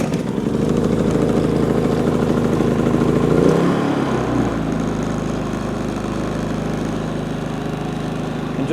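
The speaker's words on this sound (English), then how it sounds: "you're going to hear the engine smooth out." A Predator 3500 portable generator engine, four years old, runs loud and rough with a low chugging drone, then around midway settles into a steadier, smoother hum that continues to the end.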